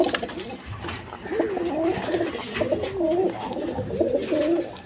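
A pair of male racer pigeons coo close by, with several repeated rolling coos rising and falling over about five seconds and no one speaking.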